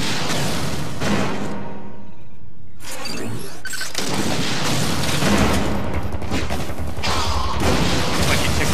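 A missile launches and explodes in Metroid Other M on the Nintendo Wii. Loud, dense booms and crashes fill the scene, broken by a brief lull before the blasts resume.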